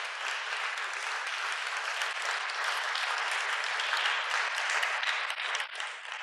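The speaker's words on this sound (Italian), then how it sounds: "Non state applaudendo me, vero?" An audience at a book presentation event claps in a steady, sustained round of applause, fairly even and somewhat distant, with no talk over it.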